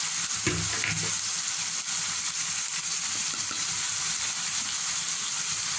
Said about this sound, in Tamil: அதில் நல்லா எண்ணெயிலே வந்து சுருள சுருள வதக்கிடுவோம்.